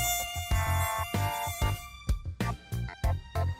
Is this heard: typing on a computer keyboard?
no